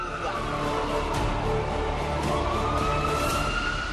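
An ambulance siren sounds at the Kumbh Mela stampede at Sangam Nose during the Mauni Amavasya royal bath. Its wailing, rising tone runs continuously over a loud, dense crowd and traffic din.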